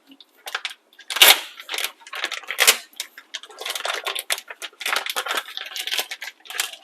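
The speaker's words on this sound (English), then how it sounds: "So removing the tofu from the package." Tofu is pulled from its plastic package, giving a string of crinkly plastic crackles, taps and rustles close to the microphone, irregular and moderately loud, with no background noise between them.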